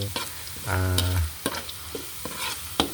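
Garlic and onion sauté in a pan for a goat sinampalukan, with several sharp scraping stirs and a short low hum over a light sizzle.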